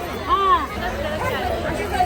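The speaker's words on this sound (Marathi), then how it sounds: "पंचमीची गर्दी बघा किती झाले दुकानं फुल आहेत" A busy market crowd at shops during the Nag Panchami festival, with a steady babble of many overlapping voices close by and no single sound standing out.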